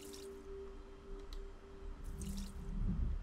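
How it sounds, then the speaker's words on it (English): Water dripping and splashing as plants are watered in the video game OMORI, soft repeated drips under a low game music drone, growing slightly fuller toward the end. "Let's go ahead and water these plants."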